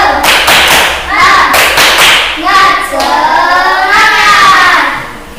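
A school class performs a rhythmic spirit clap, loud hand claps in a patterned beat mixed with voices chanting in unison, close and energetic.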